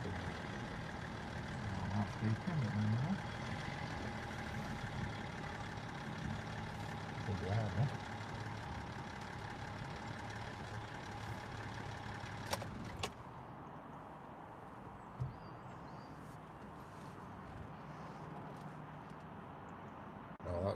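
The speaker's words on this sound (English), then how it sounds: "that sound you hear was probably my engine" A vehicle engine idles steadily at close range after reversing up a hill, a continuous low hum with a brief clunk partway through, after which the tone drops and quietens, with faint voices underneath.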